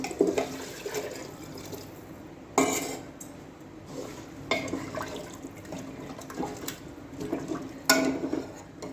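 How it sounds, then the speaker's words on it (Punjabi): Water is poured over rice in a pressure cooker, with splashing and pouring interrupted by a few sharp clinks of the metal pot and utensils. "ਅਸੀਂ ਪਾਣੀ ਐਡ ਕਰ ਦਾਂਗੇ"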